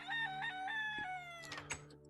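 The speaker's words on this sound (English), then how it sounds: "you know, chickens." Chickens in the TerraFirmaCraft video game cluck and crow in a short burst of several tonal calls, close and clear over a quiet background hum.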